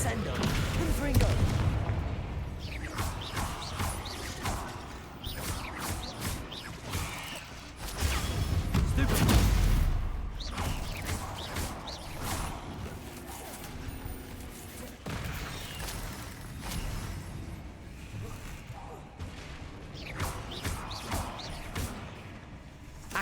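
Confringo blasting spell explosions in Hogwarts Legacy combat, repeated booms and crashes scattered throughout, with a heavier blast in the middle, amid ongoing fight sounds and some voices.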